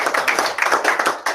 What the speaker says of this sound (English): So everyone can give Tom a round of applause.